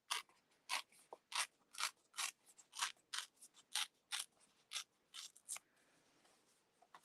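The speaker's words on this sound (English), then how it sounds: "You guys know I love my paper tearing." Paper is torn by hand for card-making and treat-box crafting, a quick series of about fifteen short crisp rips in a steady rhythm, close and fairly quiet with no talking.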